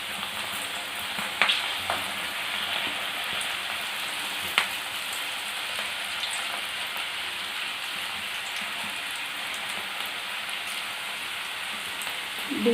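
Onion pakoda batter, crumbled in small bits into hot oil, fries with a dense, even crackling sizzle throughout, broken only by a couple of faint clicks.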